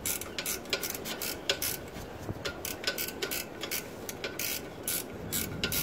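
Ratchet wrench loosening sump bolts on a Ford Mondeo MK3 ST220 during a sump gasket replacement, a fast run of close, crisp clicking bursts repeating in quick succession with no talk.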